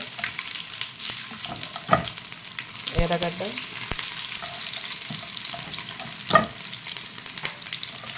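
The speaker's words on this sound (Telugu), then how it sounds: "జీలకర్ర, ఆవాలు వేసేద్దాం." Cumin and mustard seeds hit hot oil in a pan, giving a steady close sizzle and crackle with a few sharp pops and brief stirring clatters throughout.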